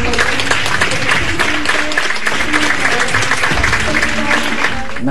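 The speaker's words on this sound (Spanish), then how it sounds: "Los felicito y las felicito por un fuerte aplauso para cada uno de" Studio applause on a Sunday television news programme, sustained clapping from a group with some talk mixed in.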